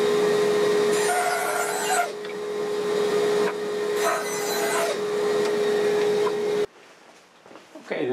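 Red oak is sawn in a woodshop over a steady dust-collector hum, with several loud rasping cutting strokes that stop and start before the machinery winds down to near quiet at the end.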